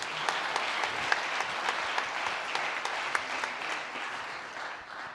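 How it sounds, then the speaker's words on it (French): A live audience applauds two rugby players at a public talk, steady dense clapping from many hands held at an even level for about five seconds before easing slightly at the end. "le palmarès de ces deux messieurs mérite déjà vos applaudissements"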